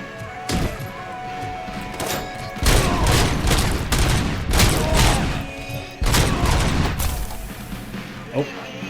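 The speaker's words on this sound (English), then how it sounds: "He fires grenades." An enemy launching grenades in Robocop: Rogue City: heavy thuds and booming blasts come in loud bursts with short gaps, mixed with gunfire, while a voice talks at moments.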